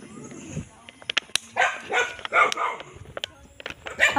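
Several dogs bark in short, scattered bursts at moderate distance, some sharper yips among them, over a quiet background.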